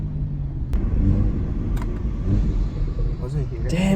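Manual-transmission car engine rumbling from inside the cabin while a new driver learns stick shift, with revving and downshift surges under constant talk from the occupants.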